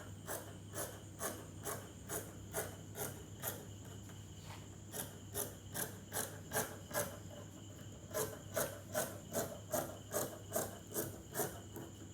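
Scissors cut through fabric for slit parallel pants, making a close, rhythmic run of crisp snipping and rasping strokes in quick bursts with short pauses, with no talk.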